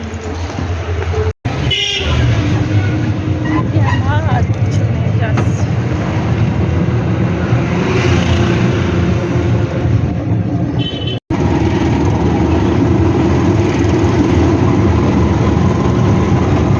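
Road traffic heard while riding along a street: a continuous close engine rumble with passing vehicles and the hiss of tyres on the road, steady throughout, with brief cutouts and some muffled voices underneath.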